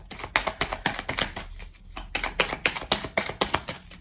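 Tarot cards being handled and laid down, heard as quick, crisp flicks and snaps in uneven rapid bursts close by with a short pause midway, with no talking.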